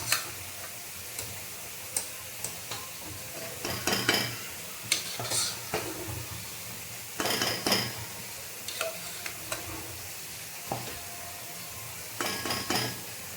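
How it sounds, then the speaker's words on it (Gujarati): A spoon stirs tuvar dal into an onion-tomato gravy with drumsticks in a pot, giving irregular scraping and clinking bursts over a soft steady simmer, close and moderately loud, with no voices. "હવે આ દાળ ઓલમોસ્ટ મિક્સ થઈ ગઈ છે"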